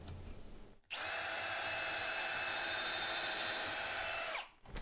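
A power drill boring pilot holes into a wall for an over-the-range microwave bracket, starting abruptly and whining at a steady high pitch for about three and a half seconds before winding down, close and alone.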